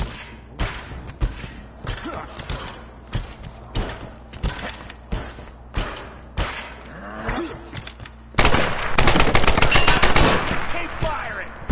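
Rapid bursts of video game gunfire from a PS4 shooter, loud and repeated in short volleys with thuds, building to a dense sustained barrage near the end; a voice speaks briefly among the shots.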